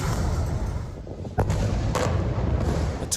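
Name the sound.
missile strikes from Israeli warplanes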